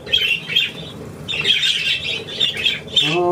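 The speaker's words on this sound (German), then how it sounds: "noch eine Möwe hier" Seagulls squawk repeatedly near a lakeshore, loud harsh cries in uneven bursts with wing flapping mixed in, with no talking.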